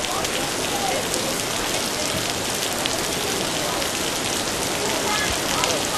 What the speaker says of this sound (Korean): 비 오는 소리도 상당히 강하게 들리고 있는 이곳 수원 영흥공원 축구장입니다